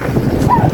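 A pack of hounds waits to be run on a farm, raising a dense, loud din of overlapping barks and yelps with one high whine rising above them.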